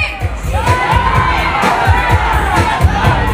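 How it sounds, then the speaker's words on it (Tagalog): A festival crowd at Taste of Manila 2024 on Bathurst and Wilson chants a special guest's name in loud, rhythmic bursts of shouting and cheering, with children's voices mixed into the dense roar. "Dapat natin, isigaw nyo rin yung pangalan niya."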